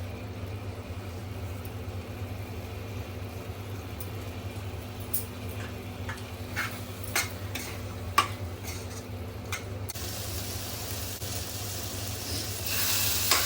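Vegetable masala for a Ganesh Chaturthi festive thali cooks in a pan with a soft, steady sizzle, broken by light clicks and scrapes of stirring and a brief hiss toward the end.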